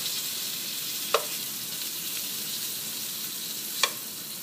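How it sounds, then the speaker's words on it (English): German rouladen, skewered with sticks, sizzle steadily in hot gravy in a pan as a continuous frying hiss, with two sharp clicks of utensils against the pan. "into the gravy goes our rouladens, sticks and all"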